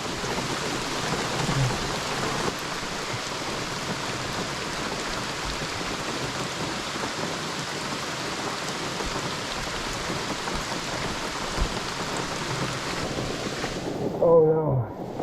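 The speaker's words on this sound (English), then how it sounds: "Raindrops keep falling on my head." Heavy rain pours steadily through a forest in Algonquin, a dense, constant hiss of drops on leaves and ground that fills the whole stretch, with a brief louder patter near the end.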